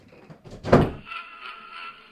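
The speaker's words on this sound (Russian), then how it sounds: "через 10 минут открыли дверь в дом Аянки" A house door opens late at night on arrival at a riverside village home: a soft fumbling, a heavy wooden thunk, then a lingering creaky scrape as it swings, close and moderately loud.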